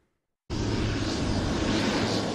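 A military airplane's engines roar in abruptly after a moment of silence, then hold a loud, steady, broadband rumble close by.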